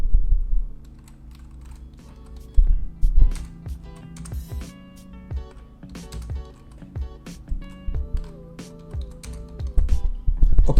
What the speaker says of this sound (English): So for the tagline, we could just type in something very appealing.